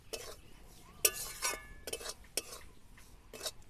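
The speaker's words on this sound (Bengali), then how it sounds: "আর কন্টিনিউ এইভাবে নাড়তে হবে অনবরত" A utensil stirs a besan and semolina mixture for barfi as it fries in a cooking pan. Soft scraping and clinking strokes come in an irregular rhythm, quiet and close, with no talking.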